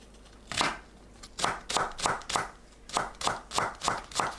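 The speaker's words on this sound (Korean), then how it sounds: "파를 작게 썰어줍니다." A knife chops green onion on a cutting board in quick, crisp taps that come in small clusters, close and clear with nothing else heard.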